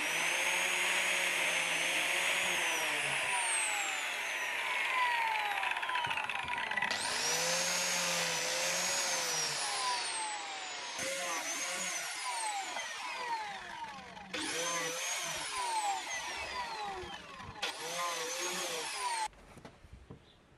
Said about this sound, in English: this allows me to cut the biscuit slot higher up on the miter joint so I don't go through the other side